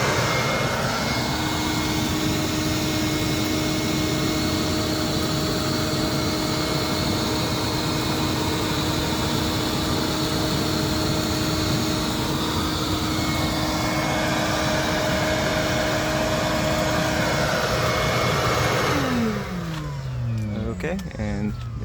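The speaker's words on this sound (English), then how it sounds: "I do have a shop vacuum connected to the power station, and we're just going to turn it on" A shop vacuum powered by an FJDynamics Powersec MP2000 portable power station runs with a loud, steady whine and roar for about twenty seconds, then spins down as it is switched off.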